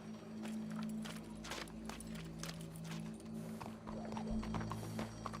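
Horse hooves clip-clop in a steady walking rhythm in the video game Red Dead Redemption 2, fairly quiet, mixed with a low background hum and faint ambient game sounds.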